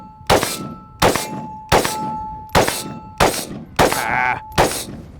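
An AK/AR hybrid rifle fires seven evenly spaced shots, each crack followed almost at once by a ringing clang as the bullet strikes a steel target, the metallic ring hanging briefly before the next shot.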